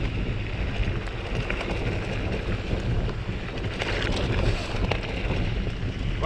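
Strong wind gusting across an open mountain hiking trail, a continuous broad roaring rush buffeting the microphone, steady and fairly loud with no voices.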